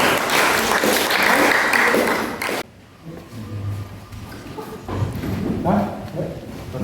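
A classroom audience at a teacher-training session gives a short burst of clapping, which cuts off abruptly and gives way to quieter room noise with scattered movement and voices.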